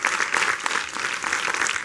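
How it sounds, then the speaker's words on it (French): Dense audience applause at a lecture by Professor David Kofi Aza, steady crowd clapping that fills the whole stretch at close range. "On applaudit très très fort le"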